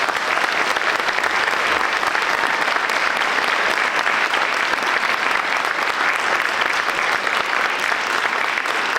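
An audience at a high school choral concert applauds, with loud, sustained clapping from many hands that holds steady without a pause.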